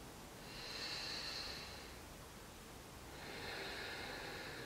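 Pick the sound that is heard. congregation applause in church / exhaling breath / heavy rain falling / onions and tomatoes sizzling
exhaling breath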